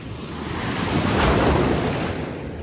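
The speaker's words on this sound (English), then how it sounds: "Wow, these waves are super strong." Strong sea waves surge on Hydra beach in the Aegean Sea, a broad continuous roar of surf swelling to a peak midway, with wind buffeting the microphone throughout.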